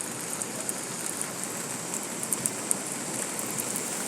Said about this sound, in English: The rain terrible.